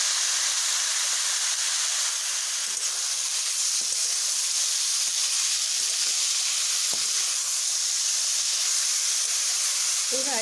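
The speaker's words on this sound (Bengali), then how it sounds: "ফোড়নগুলোকে একটু ভেজে নেব।" Whole spices, including a five-spice mix, fry in hot oil with a strong, continuous close-up sizzle and hiss, steady throughout with faint occasional clicks.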